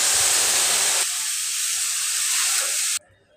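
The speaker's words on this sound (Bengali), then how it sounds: "এই যে আমি পানি দিয়ে দিলাম।" Hot boiled water hitting fried pulao rice in a hot pot, a loud rushing hiss of steam that eases after a second, keeps fizzing, then cuts off abruptly, close and alone.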